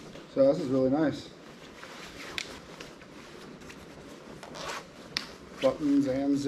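A rain jacket zipper is zipped in short quick rasps, near and clear, with soft fabric rubbing in between and a voice speaking at times.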